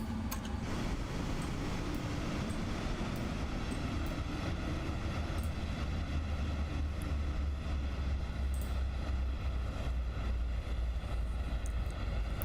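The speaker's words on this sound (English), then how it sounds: "let's go ahead and shut down those engines." Boeing 777 engines spooling down in the flight simulator game MSFS 2024, a loud steady broadband rumble and whine filling the cabin without speech, the low drone shifting slightly toward the end.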